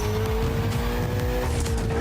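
A Ferrari 488 in the racing game The Crew Motorfest roars at high speed, its engine a loud, steady, close drone with rising pitch that shifts as it accelerates, with no talking.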